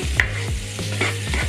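A spoon stirs a feta pasta mixture with a pinch of oil in a pan, producing soft scraping and faint sizzling with a low steady hum underneath, no talking.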